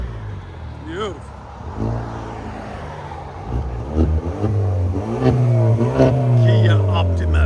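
Straight-piped exhaust of a 2017 Kia Optima SXL Turbo revving loudly in repeated rising and falling bursts, close by, with people talking over and between the revs.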